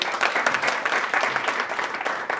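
An audience at a Hindi motivational talk bursts into dense, sustained applause, many hands clapping at once close by in an even, unbroken roar.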